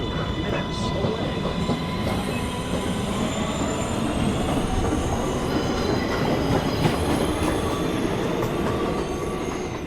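An R262 subway train in an MTA simulation game runs steadily throughout, with continuous rolling rumble, clattering wheels and squealing metallic tones, loud and close with no talk.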